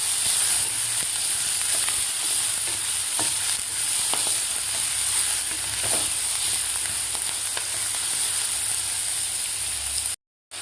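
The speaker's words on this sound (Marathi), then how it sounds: "कांदासुद्धा आपल्याला 2 मिनटं व्यवस्थित परतून घ्यायचा आहे" Chopped onion sautéing in a pan for a sprouted moth bean usal, a steady close sizzle and hiss with faint scraping stirs running throughout, cutting off abruptly near the end.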